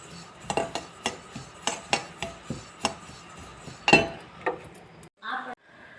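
Sesame seeds roasting in a dry pan while being stirred, heard as a regular series of sharp metal spoon knocks and scrapes against the pan, about one per second, with a brief muffled noise at the end.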